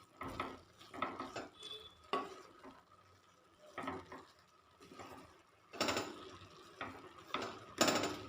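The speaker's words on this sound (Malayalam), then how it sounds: "നന്നായിട്ടൊന്ന് ഇളക്കി കൊടുക്കാം." Spinach thoran is stirred in a pan with a spoon, giving repeated scraping and clinking strokes in uneven bursts against a soft sizzle, close and moderately loud, with no talk.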